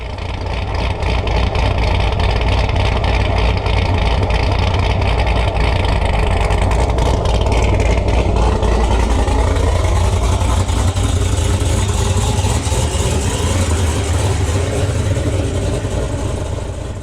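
A car engine runs steadily as the car is pulled out, a loud, continuous low rumble that swells slightly midway, close by with no talking.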